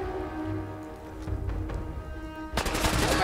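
Gunfire in the video game Fallout 4 crackles as a rapid burst of shots near the end, after a stretch of tonal game music and ambience, loud and close.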